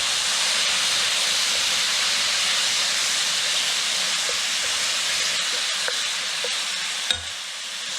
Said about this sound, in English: Now we're going to add the tomatoes.